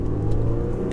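Audi 3-litre bi-turbo diesel engine, tuned to about 550 bhp, revving hard in first gear: a brief, loud, continuous low engine drone heard from inside the car.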